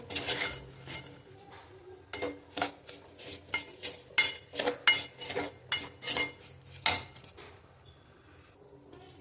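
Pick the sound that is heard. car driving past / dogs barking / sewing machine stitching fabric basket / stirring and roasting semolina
stirring and roasting semolina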